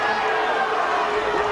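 A boxing arena crowd roars steadily in support of Ricardo Mayorga, a loud, continuous cheering mass with no clear breaks, blended with a commentator's voice.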